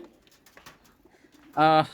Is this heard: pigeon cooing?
yes